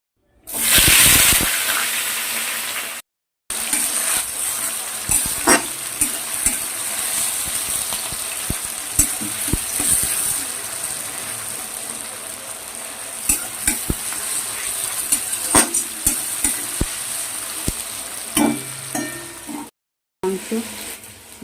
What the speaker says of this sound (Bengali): এই যে পেঁয়াজগুলো দেবো এই যে দেখো তেলটা একটু লাল হোক চিনিটা একটু লাল হোক